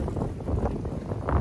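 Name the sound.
strong wind at Nyhavn canal, Copenhagen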